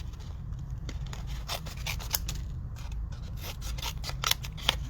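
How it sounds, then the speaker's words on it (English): Crafting scissors snip through a paper cutout of a Sasquatch figure in a close series of crisp, irregular cuts, with no talking over them. "hand me the scissors."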